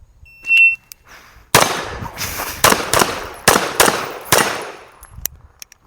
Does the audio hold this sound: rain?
no